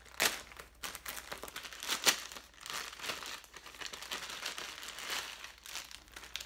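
Close, loud crinkling and tearing of plastic packaging around underwear, with sharp rips among continuous rustling handling noise.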